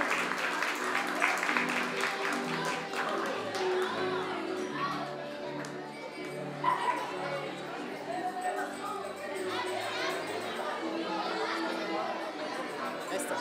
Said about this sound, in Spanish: el aplauso fuerte para Christopher